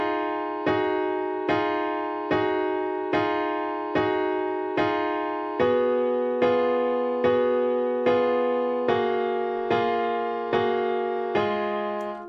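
A dark synth melody in FL Studio, transposed down four semitones, repeats steady sustained chords in an even pulse with a slight decay on each hit. The pitch shifts lower partway through. Close and clean, with no voices.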